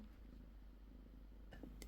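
Soft, steady cat purring close to the microphone, a low continuous rumble with a couple of faint clicks near the end.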